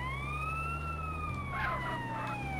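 Ambulance siren in GTA: San Andreas, a steady rising wail heard continuously over low engine rumble, fairly close and prominent, with no talking.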